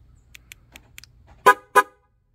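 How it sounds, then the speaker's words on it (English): Ford Super Duty truck horn, relocated and zip-tied under the open hood, sounds a loud double honk of two short close blasts after a few faint clicks. "I'm going to get a double honk,"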